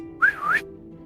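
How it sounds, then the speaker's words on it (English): A quiet human whistle played over a Discord voice chat, a single short two-part tone that swoops down and back up, clear and close with no talking. "I purposely tried to make that the quietest whistle I could"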